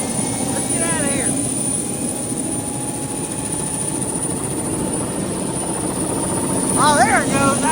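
A loud, steady engine roar drones throughout with a constant high whine, while a voice speaks briefly under it near the start and again at the end.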